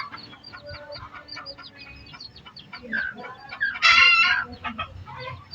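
Bantam chickens with newly hatched chicks cluck and cheep close by, overlapping busy peeps and short calls, with one louder burst of squawking toward the end; no talking.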